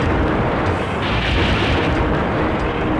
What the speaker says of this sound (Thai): เด่นไปยิงปิ้วปิ้วปิ้วปิ้ว